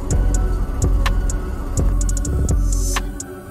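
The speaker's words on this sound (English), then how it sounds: "I'm actually gonna just pull the truck forward" Idling semi truck engine pulling forward after a fifth wheel slide, a loud steady low rumble with repeated sharp clicks and hisses of air over it, no talk.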